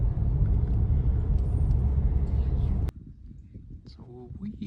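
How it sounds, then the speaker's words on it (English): A car drives through Fort Valley with a loud, steady low road rumble and tire roar. It cuts off abruptly partway through, leaving a quiet interior where a voice speaks. "We are driving south through Fort Valley now."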